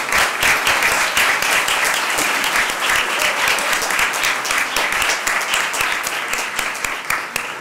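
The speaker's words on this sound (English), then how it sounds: "Can we give another round of applause to our students?" An audience at a board meeting applauds students in a sustained, dense round of clapping that holds steady and loud for several seconds before easing slightly at the end.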